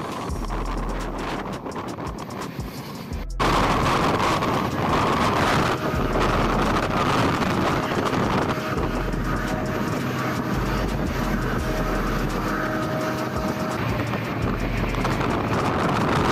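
A passenger train on the Nanded–Parbhani line runs past Wanegaon station without stopping, a loud steady rumble with strong wind roar, the noise jumping up sharply a few seconds in and holding.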